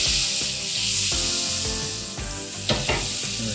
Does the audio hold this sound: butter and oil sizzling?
yes